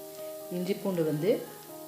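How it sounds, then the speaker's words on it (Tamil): Six cloves of garlic and an inch of ginger, cut into small pieces, sauté in a pan for kadai paneer, giving a steady close sizzle throughout, with a voice sounding over the middle of it. "இஞ்சி ஒரு இன்ச்சு சின்ன சின்ன பீஸாக கட் பண்ணி போட்டு இது நல்லா வணக்கிக்கணும்"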